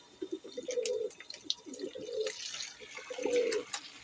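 Pigeons feeding on grains mixed with crushed egg shells, giving soft repeated coos and low murmuring calls with light pecking and shuffling sounds close by, alongside faint background voices.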